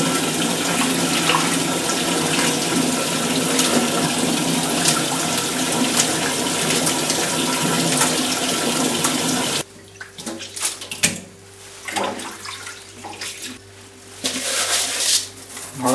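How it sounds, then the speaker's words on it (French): Tripe (the robe or fuseau part) rinsed in a basin under running water for Troyes-style andouillette; a loud steady gush for about ten seconds, then quieter uneven splashing and trickling with pauses. "je vais obtenir toute ma tripe que je rince dans la fondieron"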